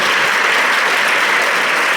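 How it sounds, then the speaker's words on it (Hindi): Loud, dense applause from a room full of schoolgirls at a girls' school question-and-answer session, close and continuous for a couple of seconds. "देखिए ताली बजाओ इसके लिए"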